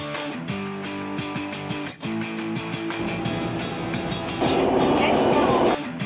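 Taipei MRT metro train ride, with steady rumbling rail noise and clicking wheel sounds throughout, a rising roar partway through, and faint background voices mixed in.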